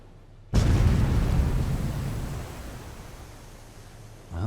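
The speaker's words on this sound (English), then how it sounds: "Well, that's one torpedo." A torpedo strikes a ship in the World War II naval game Victory at Sea Atlantic, giving a sudden loud explosive burst that rolls into a long, slowly fading rumble of debris and water, followed by a smaller thud near the end.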